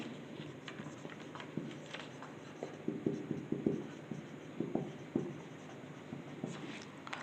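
Chalk or marker scratches and taps on a board in irregular short strokes, close by over a steady room hiss, as a physics equation about electric fields gets written out, with no talk.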